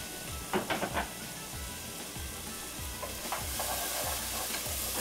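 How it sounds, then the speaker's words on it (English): Roughly a teaspoon of minced garlic frying in a pan while being stirred, a steady close sizzle and hiss with repeated scraping strokes of the utensil, no talking. "fry these down until they're soft and tender"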